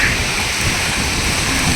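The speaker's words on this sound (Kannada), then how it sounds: "ಮಳೆ ತುಂಬಾ ಬರ್ತಾ ಇದೆ" Heavy rain pours steadily and loudly, a dense, even hiss with no breaks, during a downpour at Dharmasthala.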